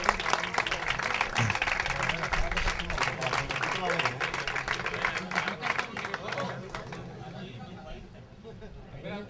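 A crowd at a local futsal league trophy ceremony breaks into dense, loud applause, many hands clapping steadily for several seconds before gradually thinning out, with cheering and chatter mixed in.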